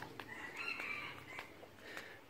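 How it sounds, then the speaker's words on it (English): Chickens outdoors in Pai, northern Thailand, cluck and crow together, with a few sharp calls and a drawn-out crow rising over a soft background, fairly close and alone without talking. "oh look, some chickens."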